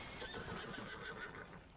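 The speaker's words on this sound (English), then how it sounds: "Come on, you silly horse." A horse in a video game neighs in a drawn-out whinny with faint clip-clop hoofbeats underneath, quiet and distant.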